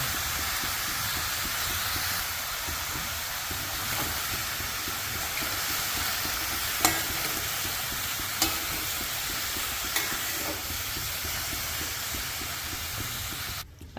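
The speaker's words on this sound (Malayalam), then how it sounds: "ഇനി ആവശ്യത്തിന് ഉപ്പും കൂടി ചേർത്തിട്ട് നമുക്ക് നന്നായിട്ടൊന്ന് ഇളക്കി കൊടുക്കണം." Chayote (chow chow) being stirred with salt in a pan gives a steady sizzling hiss with a few sharp scrapes of the spoon against the pan, close up and without talk.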